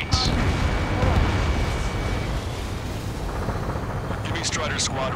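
Dense gunfire and roaring jets echoing through city streets under martial law in the Ace Combat 7 video game, a loud continuous rumbling wash with crackling bursts and a voice speaking over it.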